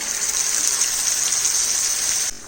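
Ground keerai paste dropped into hot oil with crackling cumin makes a loud, close, steady hiss and sizzle, a dense frying rush that holds evenly for about two seconds before dropping off abruptly.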